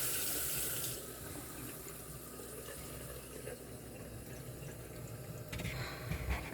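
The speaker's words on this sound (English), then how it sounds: "I'm gonna turn on the water." A kitchen sink tap turned on, with water running in a steady broad rush that stays close and constant, with no talk.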